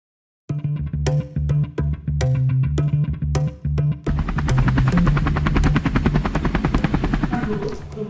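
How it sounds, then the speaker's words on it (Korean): A helicopter flight simulator at a vocational meister high school starts after a brief silence with loud, rhythmic rotor thumps, then thickens into a dense, continuous whirring chop with metallic clatter throughout. "여기가 헬기 시뮬레이터를 하는 곳인데"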